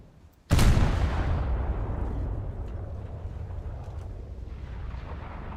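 Naval guns aboard the Mitscher fire in a video game with a sudden loud boom, followed by a long rumbling decay and faint distant pops.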